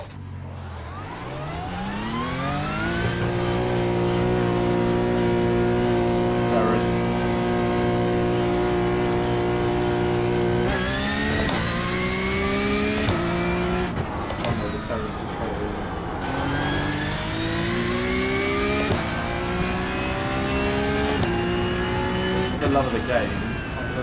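A Porsche Cup race car engine in a racing video game howls through rising gear pulls, with shifts and renewed acceleration, loud and continuous throughout.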